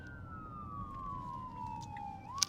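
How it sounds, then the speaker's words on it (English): An ambulance siren passing by in the distance, one long gliding wail that slowly falls in pitch over faint street noise. "ambulance coming over here"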